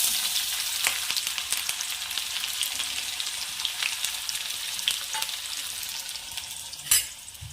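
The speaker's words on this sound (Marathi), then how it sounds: "एक मोठा कांदा आणि तेल तापाला ठेवला आहे तापत पण आलं एक मोठा कांदा असा बारीक कट करून आहे ॲड करून देते मी" Finely chopped large onion frying in hot oil, a steady close sizzle and crackle throughout with occasional stirring scrapes and one sharper clatter near the end.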